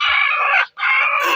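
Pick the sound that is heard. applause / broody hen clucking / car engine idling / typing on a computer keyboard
broody hen clucking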